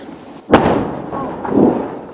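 Israeli strikes on Hezbollah positions produce a sharp, loud explosion that bursts suddenly and then rolls into a long rumbling decay, with a second swelling boom trailing after it.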